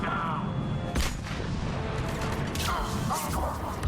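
Explosions in the video game Mass Effect 3, heard as a broadband burst near one second and another near two and a half seconds, loud over constant battle noise and game audio.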